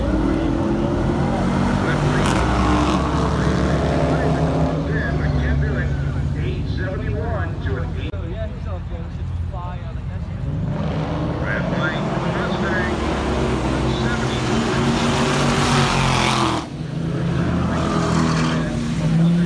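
Dodge Demon and a supercharged Mustang race at Irwindale Speedway at night, loud sustained engine roar and revving filling the whole stretch, with voices talking over it.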